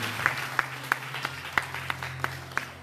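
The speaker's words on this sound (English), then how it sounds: "Clap for Jesus, everybody." A church congregation claps during a Holy Ghost revival meeting in Melbourne: sparse, sharp individual claps in a slow, fairly regular rhythm over a low steady hum.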